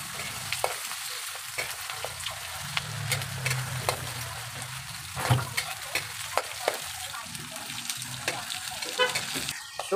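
Garlic, tomato, onion and green chili sautéing in hot cooking oil for mung bean stew, with a steady close sizzle, frying crackle and intermittent stirring scrapes throughout, no talking.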